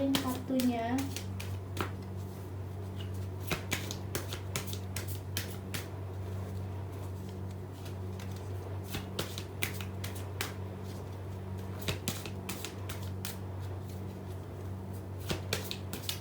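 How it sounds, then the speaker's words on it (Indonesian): A deck of tarot cards shuffled by hand, repeated crisp riffling bursts and soft slaps at irregular intervals over a low steady hum, with no talk. "Oke, kita akan shuffling kartunya."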